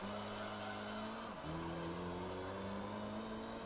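Race car engines roar in Gran Turismo 3 during a 300 km endurance race on Grand Valley. A steady, droning engine note is heard with a brief dip in pitch midway, as on a gear change.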